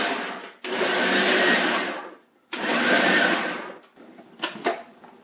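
Food processor pulsing macadamia nuts and almonds for homemade power bars: two loud whirring bursts of about two seconds each with a short pause between, then quieter clatter and scraping.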